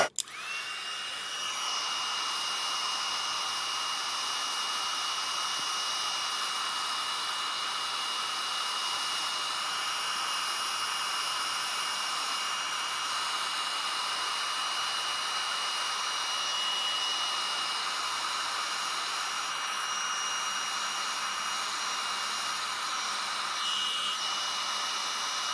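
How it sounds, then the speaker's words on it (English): A crafting heat tool blows a steady, even whirr while melting embossing powder on a card, holding one unbroken note close by from start to finish. "I'm going to bring the heat tool in and I'm just going to heat that powder up"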